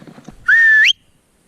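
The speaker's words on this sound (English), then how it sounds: "I better give the dog a whistle" A person gives one loud, sharp whistle on a hill walk to call a dog, a single sustained tone rising at the end, heard close and alone.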